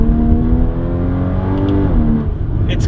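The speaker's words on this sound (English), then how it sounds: "Missed those downshifts so much." A Porsche Cayman GTS engine revs through downshifts, its harmonic tone climbing in sustained, loud blips up close before settling, with no voices over it.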